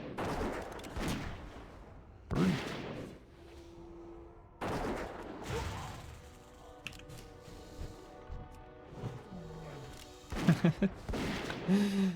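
A Pathfinder in World of Warcraft shoots at a hunter, with several sharp gunshot cracks scattered among game effects, chimes and faint tones at moderate loudness.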